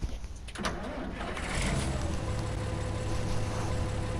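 A large tractor engine in the farming video game Farming Simulator 19 starts up and settles into a steady, loud rumbling idle that grows slightly louder partway through, with no talking.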